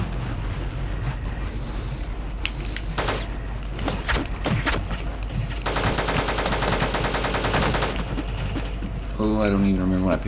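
Gunfire from a weapon in the roguelike Teleglitch: rapid bursts of sharp shots, then a long fast stream of automatic fire, loud and close, ending with electronic game tones.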